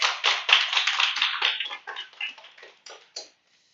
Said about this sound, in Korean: 예, 박수로 환영하십니다